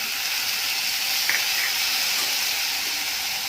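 Cabbage and capsicum frying in a little hot oil in a kadai, giving a steady, close, even sizzling hiss throughout.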